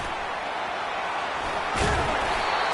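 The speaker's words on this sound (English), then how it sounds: "Slammed to the ground, but not before he gets the first down." A football ball carrier is slammed to the turf in a tackle during an LSU vs. Arkansas college game, a sudden thudding impact rising out of steady stadium crowd noise.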